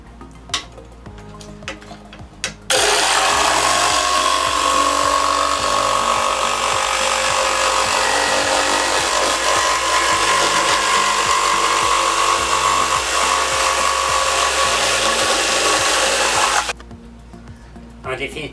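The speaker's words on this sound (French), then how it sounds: "Pour scier avec une scie électroportative, Il suffit d'appuyer le sommet de l'instrument sur l'un des bords du guide-scie." A portable electric saw cuts through wood along an XM Equipement saw guide, whining loudly and steadily for about fourteen seconds after a few quiet handling knocks, then stopping abruptly.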